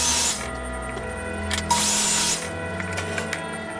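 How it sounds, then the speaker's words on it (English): A miter saw trims a wooden plank for a rustic Christmas tree base box, heard as a steady mechanical whine with brief louder bursts of cutting, close and alone without talk. "the very last plank was a bit too long to fit, so we trimmed it down on the miter saw."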